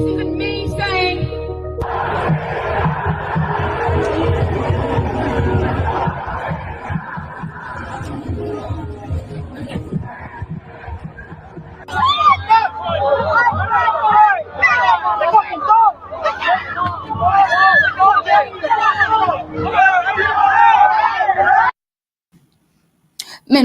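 A crowd of demonstrators faces police, a dense murmur of many voices rising and falling, with louder shouts and cries crowding the second half before cutting off abruptly.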